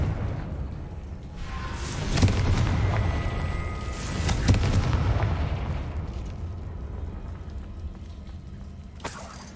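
Confringo spell blasts in the Hogwarts video game land as deep rumbling booms, one swelling near the start and another midway, each fading into a long low roar, loud and close with no talking.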